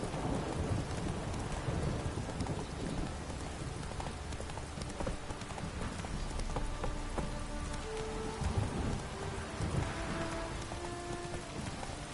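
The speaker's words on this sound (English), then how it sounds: "It's blowing, pouring again." In The Witcher 3, heavy rain pours steadily through a storm with a dense, continuous hiss, while low thunder rolls underneath and brief tonal game sounds drift in toward the end.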